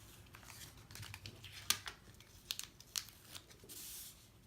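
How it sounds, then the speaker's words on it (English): Purple washi tape peeled off a handmade paper card, giving a few short, dry tearing rips spaced apart over quiet room tone. "I guess it would help if I took off my purple tape now."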